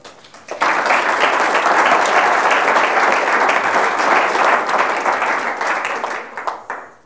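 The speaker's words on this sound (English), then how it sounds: "Thank you for your kind applause" Members at a banking institute's annual general meeting break into applause after a short quiet moment, a loud, full burst of many hands that holds steady and then tapers off near the end.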